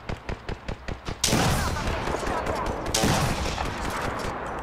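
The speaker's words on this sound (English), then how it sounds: "I am taking fire, friends." Video game gunfire: a run of evenly spaced single shots, then a dense, loud fusillade of rapid automatic fire with a sharp burst near the end, and voices partly under it.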